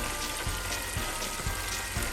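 Meatballs fry in oil, sizzling and crackling continuously in a pan, with soft, evenly spaced knocks underneath.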